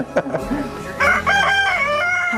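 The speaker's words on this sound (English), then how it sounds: "I can't get rid of my roosters." A rooster crows loudly and close by, one long drawn-out call that rises and holds, after a brief rustle at the start.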